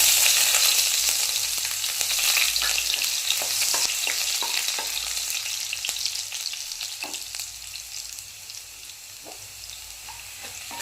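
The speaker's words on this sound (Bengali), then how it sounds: "রসুনটা বেশি পোড়া পোড়া ভাজবো না একটু বাদামি বাদামি কালার হয়ে গেছে" Chopped garlic frying in oil with dried chilli and five-spice, a steady close sizzle broken by scattered scraping and tapping of a stirring spoon, fading slightly over time.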